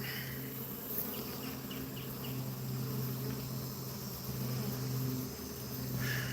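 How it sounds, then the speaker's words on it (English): A swarm of bees that has landed on the ground gives a continuous, dense buzzing hum outdoors, with occasional single insects passing close by. "So I just had a swarm land on the ground over here."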